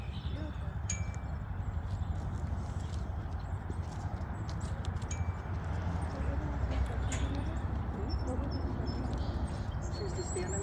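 A horse moves around a round pen, its hooves thudding softly on the ground beneath a broad outdoor hiss, with scattered bird chirps and faint background voices.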